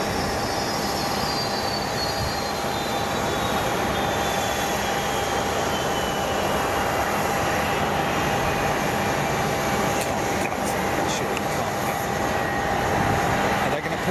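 An MD-11 jet being pushed back at Boeing Field gives a loud, steady whine and broadband roar, with a thin descending tone early on and a few clatters near the end.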